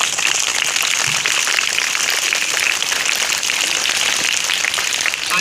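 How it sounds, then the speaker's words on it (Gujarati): Audience at a primary school Independence Day ceremony applauding, a dense, steady burst of many hands clapping that holds evenly loud throughout, with no voices over it. "તાળીઓના ગડગડાટથી આપણે આ દરખાસ્તને વધાવી લઈશું।"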